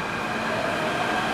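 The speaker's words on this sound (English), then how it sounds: "The train is moving very fast." An MTR metro train rushes fast through Po Lam station, a loud, steady roar with a faint high whine and no pauses.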